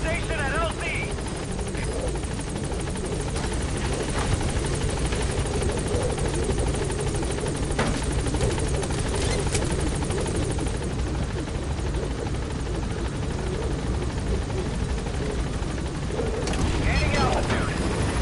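Helicopter Pequod from Metal Gear Solid 5 arriving at a landing zone, its steady rotor roar loud and continuous throughout, with occasional booms and gunfire-like bursts in the game mix and a voice speaking over it.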